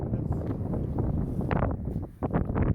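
Gusty wind blowing outdoors, buffeting the microphone with steady low rumble and a brief lull before rising again, loud and close.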